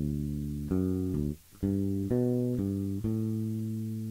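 Bass guitar plays a bass line, a loud, close, sustained run of repeated notes shifting between a few pitches, with one brief gap partway through and no talking.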